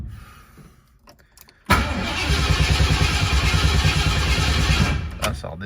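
A Ford Mustang engine cranks and catches after a stretch of quiet rattling, then roars loudly and steadily at raised revs close by for several seconds before easing slightly.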